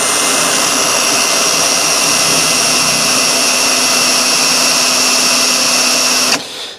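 A power drill bores a hole in a raised garden bed with a loud, steady, high whine that runs unbroken for several seconds, then cuts off abruptly and winds down.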